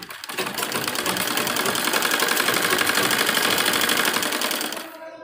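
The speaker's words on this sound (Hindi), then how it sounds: "अब इसी पर हमें निशान पर सिलाई लगाएंगे" Sewing machine stitching a sleeve onto a dress, one continuous loud run of rapid, even needle clatter lasting several seconds before it slows and stops close by.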